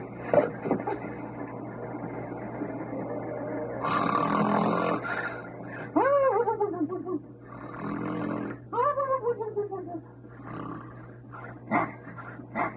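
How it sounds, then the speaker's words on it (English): A man snoring: a comedian of the Three Stooges in an old comedy film gives loud, rasping snores with whistling, rising and falling tones, repeated several times against a faint background hum. "you're gonna recognize him by that snore right away"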